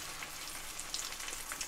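French toast sizzling in butter in a pan, a soft, steady crackle and hiss with faint pops, heard alone and fairly quietly.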